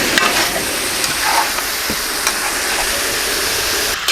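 Chicken frying on a hot tawa while being stirred, spices about to go in: a continuous loud sizzle and hiss with intermittent scraping and clinks of the spatula against the metal pan, close up.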